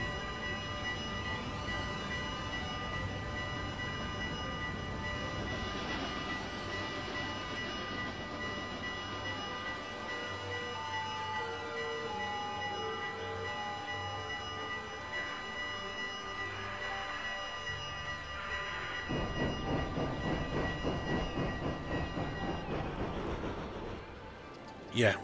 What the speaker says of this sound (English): Look at all them trains.